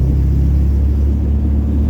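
A classic MGB sports car's engine drones steadily while driving, a loud, even low rumble with no talk over it.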